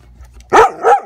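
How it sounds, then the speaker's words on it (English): A dog gives two quick, close barks in succession, loud and sharp after a brief quiet moment, with no talk over them. "Ava, can you say bark bark?"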